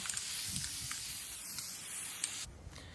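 A continuous aerosol spray of white coat touch-up hisses steadily onto a horse's fanned-out tail for about two and a half seconds, close and fairly quiet, then cuts off abruptly.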